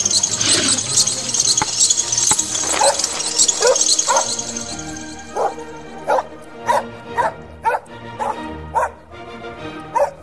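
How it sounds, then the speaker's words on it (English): A dog in an animated Batman and Robin film whimpers and squeals loudly over other sounds, then gives a steady run of about eight short, evenly spaced yips and barks, close and clear. "Stop slobbering on me, dog."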